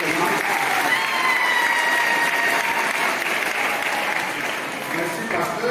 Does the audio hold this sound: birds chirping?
no